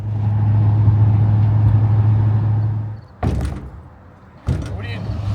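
A Duramax pickup truck idles with a steady low engine rumble, then cuts off and two sharp door thunks follow about a second apart, close by and loud.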